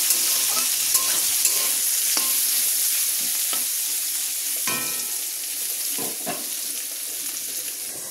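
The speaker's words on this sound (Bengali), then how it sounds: "বিনস কড়াই আর আলু ভাজা করছি একসাথে।" Beans and potatoes frying together in a pan make a steady, close sizzle, broken by occasional scrapes and taps as they are stirred.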